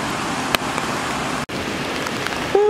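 Heavy rain falls steadily at the Jigokudani monkey park in Nagano's mountains, a dense, even hiss filling the whole clip with a couple of brief sharper knocks and a faint tone near the end.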